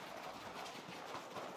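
Horse hooves clip-clop softly at a gentle pace, the rider holding a light rein, faint and distant under a steady broadband background noise.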